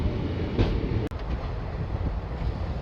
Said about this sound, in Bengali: এক মিনিট দাঁড়ানোর পর বিধাননগর থেকে ট্রেন ছেড়ে দিয়েছে।